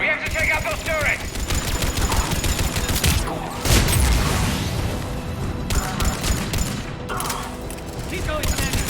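Cerberus turrets in the Mass Effect 3 video game fire continuous rapid bursts amid explosions and mechanical clatter, with voices shouting over the battle.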